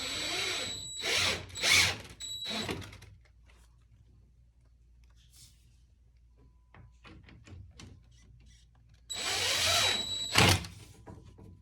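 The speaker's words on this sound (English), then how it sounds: "I'm going to pre-drill the ends, keep them plumb with my level, and screw them in." A power drill whirs in short bursts, pausing between runs, then a longer final burst, while pre-drilling and screwing wooden stair rail ends; quiet workshop noises fill the gap in between.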